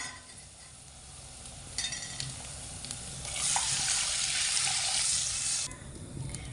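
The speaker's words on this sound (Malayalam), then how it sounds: "ഇനി നമുക്കിതിലേക്ക് ആവശ്യത്തിനുള്ള വെള്ളം കൂടി ചേർത്ത് കൊടുക്കാം" Water is poured into a pan of cooked spices, a rising rush and hiss of liquid hitting the hot pan after a quieter simmer, loudest midway and settling to a steady bubbling.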